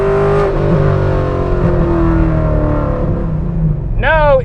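A C5 Corvette with a short-throw shifter accelerates hard, engine note climbing steadily in pitch before a brief drop and a fresh sharp rise as it shifts, loud and close, from inside the car.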